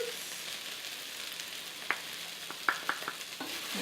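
Potato pieces with spices fry in a pan, giving a soft, steady sizzle broken by scattered spatula clicks and scrapes as they are stirred, with no talking.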